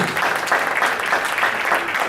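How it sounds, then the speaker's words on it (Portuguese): A church congregation applauds during an Assemblies of God service, brisk steady clapping from many hands filling the hall for a couple of seconds. "Você pode dar um aplauso para o Senhor"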